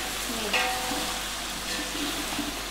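Spices and vegetables for a large three-kilo batch of veg pulao being sautéed in a pot, a continuous soft sizzle with occasional light stirring scrapes, fairly quiet.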